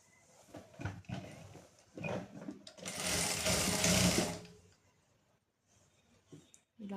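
A sewing machine stitches the side seam of a straight-cut pant, running in a sustained burst of rapid whirring in the middle, framed by shorter stops and starts and handling noises before and after.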